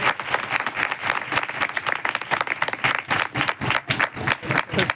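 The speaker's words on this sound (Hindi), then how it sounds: "दो तालियों से स्वागत करेंगे।" A church congregation applauds to welcome a speaker to the stage, a dense, steady wash of many hands clapping, loud and close, continuing throughout with no voices on top.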